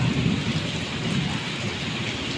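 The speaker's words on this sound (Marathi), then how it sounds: "पावसाची खरी मजा आता सुरू झालेली" Heavy rain pours down in the Konkan region, a dense, constant roar with low rumbling thunder rolling underneath, loud and close with no voices.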